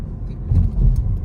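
A car rolls past on a road in Boston, a brief low rumble of tires and engine that swells slightly midway, fairly close, with no voices over it.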